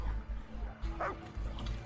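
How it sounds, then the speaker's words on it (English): A dog in the video game Dauntless whimpers and yips softly while being petted, a brief high whine rising over a low, steady in-game ambience. "You can pet the doggy!"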